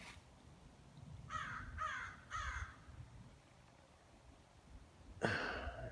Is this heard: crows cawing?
yes